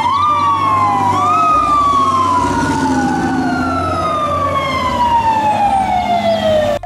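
A wailing fire truck siren sweeps down in pitch, loud and steady throughout, with a slightly tinny, toy-like tone.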